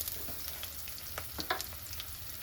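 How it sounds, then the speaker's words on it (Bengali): Ginger and green chili fry in oil with a pinch of asafoetida, giving a soft, steady sizzle with small crackles and brief stirring scrapes, close by and without any talking. "ভালোভাবে আদা লঙ্কা ভেজে নিচ্ছি।"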